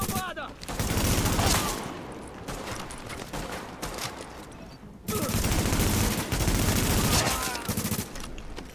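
Bursts of automatic gunfire from The Division, played in online co-op, crackle in two long volleys separated by a brief lull, rapid and loud with a player's voice coming through intermittently.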